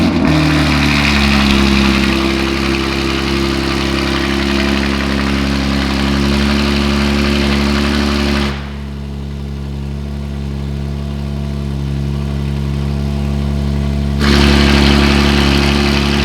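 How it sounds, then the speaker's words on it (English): A BMW G87 M2 fitted with a full titanium Valvetronic exhaust starts cold, settling into a loud, steady, deep idle with a brief dip in level midway before the drone swells back up, no talking over it. "let's go ahead and get one final Valvetronic cold start"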